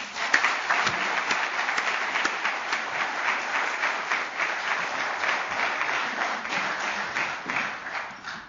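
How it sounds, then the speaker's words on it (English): Audience applause for recipients of a Best University Teacher award at a ceremony, continuous crowded clapping at moderate level with a slightly rough, even texture that holds steady to the end. "Can I have another round of applause for all of them?"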